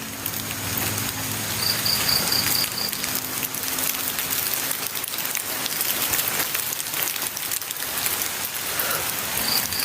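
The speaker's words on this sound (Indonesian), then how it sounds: "Hujan nih." Steady rain falling in a forest, a dense, continuous hiss of drops on leaves and surfaces, close and loud throughout, with faint insect chirps in the background.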